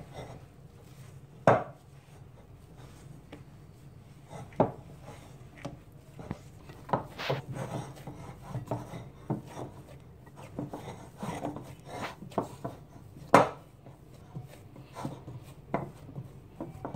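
Flour and beaten egg are stirred together into chin chin dough, giving irregular scraping and knocking against the bowl. Sharp clinks sound close at several points, with no talking.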